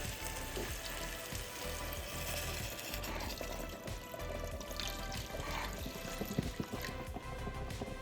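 A sauce mixture is poured over a pot roast in a hot pan. It sounds as a busy, close sizzle with liquid splashing and bubbling, plus a few clatters, and no one speaks.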